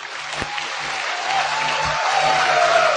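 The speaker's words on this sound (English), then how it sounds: "big round of applause for Sreejesh" An audience at a tech talk on a Raspberry Pi and Arduino robot claps for the presenter, a steady, even wash of applause building slightly over three seconds with no talking.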